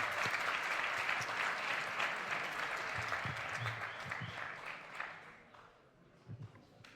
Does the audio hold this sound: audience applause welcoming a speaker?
yes